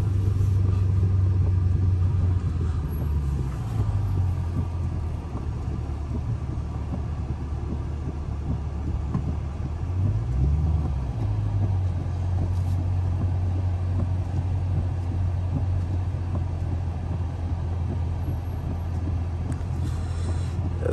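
An SRT car drives at night, its engine a constant low droning rumble heard from inside the cabin, with one brief rise and fall in pitch partway through.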